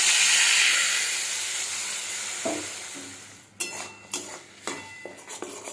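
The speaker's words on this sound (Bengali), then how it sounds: "আলু ভাজার তেল থেকে আমি কিছুটা তেল তুলে নিয়েছি দিয়ে দেবো বেটে রাখা মশলাটা" Hot oil left over from frying potatoes hisses steadily, then ground spice paste goes into the pan with a series of sharp sizzling bursts and metal scrapes from stirring, close and unaccompanied by speech.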